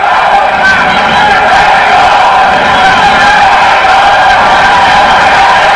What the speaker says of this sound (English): Crowd chanting Mexico, Mexico